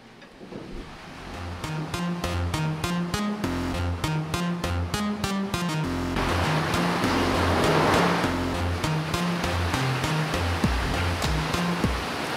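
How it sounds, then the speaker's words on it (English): Overshot water wheel of a watermill turning, heard as steady rushing, splashing water under a regular, repeating mechanical thumping rhythm, loud and continuous throughout. "The water wheel is the overshoot type."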